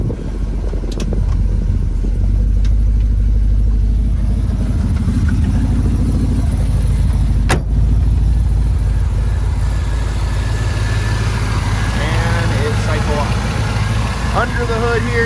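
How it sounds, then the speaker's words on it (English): A 1968 Chevrolet Camaro SS396 with a 396 big block V8 idles close by, a steady low rumble that runs throughout while someone talks over it. "Under the hood here, you got your big block Chevrolet engine. This is a 396, 325 horse"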